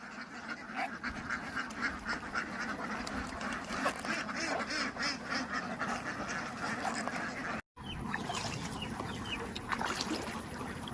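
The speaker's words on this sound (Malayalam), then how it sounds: "there are a lot of ducks. See, they are playing." Many ducks quacking steadily in a village field in Kerala, a dense, continuous chorus of overlapping calls that stays close and loud throughout, with a brief gap near the end.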